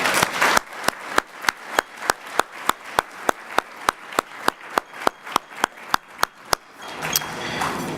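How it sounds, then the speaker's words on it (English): An audience at a community awards ceremony claps in a steady, rhythmic beat, around twenty evenly spaced loud claps that stop abruptly near the end, leaving faint room noise. "let's give one more round of applause for these wonderful individuals"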